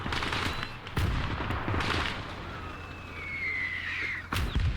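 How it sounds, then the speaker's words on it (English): Bursts of RPK light machine gun fire in the video game Call to Arms, as short rattling volleys at a moderate distance, separated by quieter gaps of battlefield ambience. "You guys are getting rocked by that RPK."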